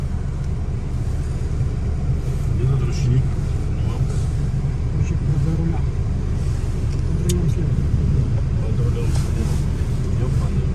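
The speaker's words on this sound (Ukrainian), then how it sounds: "Машина завелась." A car's engine runs at a steady idle for the whole stretch, a loud, continuous low rumble heard from inside the vehicle, with faint scattered clicks and knocks on top.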